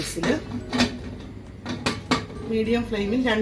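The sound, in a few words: pressure cooker lid being closed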